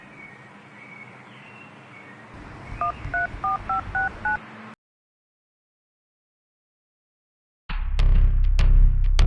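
Telephone keypad tones: six short, evenly spaced beeps over a faint background hum, followed by a gap of silence and then louder unrelated noise.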